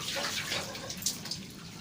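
A tap runs steadily for a moment, giving a soft, continuous rushing splash with a few small drips, fairly quiet and near, with no voices.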